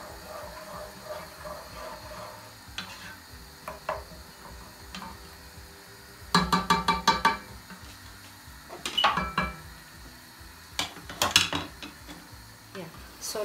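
Stirring tomatoes in a cooking pot for tuna pasta: close, clattering scrapes and knocks of a utensil against the pot, coming in irregular bursts that grow busier in the second half, with low kitchen background and no talk.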